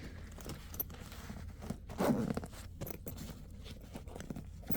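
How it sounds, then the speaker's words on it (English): A zipper on a Melotough budget bag is pulled in short scraping runs, with one louder, longer zip near the middle, close up and without talk. "this is where the zipper ends"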